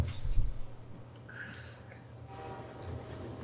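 A train horn blares, then a passing train rumbles and clatters steadily in Garry's Mod, loud at first and then easing to a continuous rolling noise.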